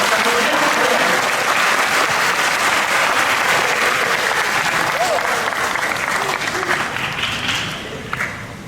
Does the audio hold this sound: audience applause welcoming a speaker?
yes